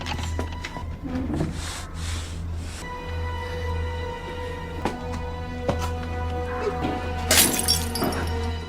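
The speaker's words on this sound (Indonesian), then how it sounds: "Para penyusup langsung mencari Sarah setelah mendengar pecahan botol." A glass bottle shatters sharply in a tense house setting, with an earlier smaller crash and clinks, followed later by a loud burst of breaking glass and scattered tinkling fragments over a steady low hum.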